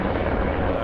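Helicopter working a wildfire alongside fire trucks, a steady loud rotor and engine roar filling the short moment with continuous broadband noise and no gaps.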